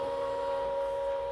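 Brother ScanNCut cutting machine starting on a loaded mat, a short steady electronic motor whine with a clear tonal hum, faint and close, no talking.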